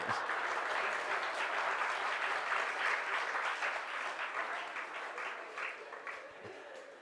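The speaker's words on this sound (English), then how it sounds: "I want you to know why usually people clap" An audience at a yoga satsang talk claps together in a broad, continuous wash of hand applause that gradually thins and fades toward the end.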